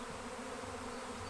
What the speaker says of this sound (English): there's just nothing but bees. They're just flying everywhere.